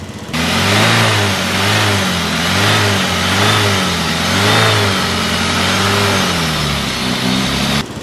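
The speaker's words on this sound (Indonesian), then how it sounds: "tadi udah dihidupin, udah saya gas ya kan." A third-generation Toyota Vios engine runs loud and close, rising and falling in a few slow revs over a steady idle, with no voices.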